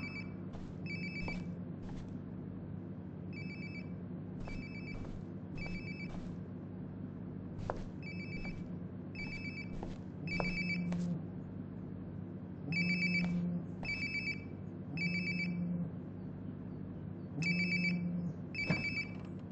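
A mobile phone rings nearby inside the Life is Strange video game, its repeated electronic ringtone bursts sounding in a steady on-off pattern over a low ambient game background, with no talking.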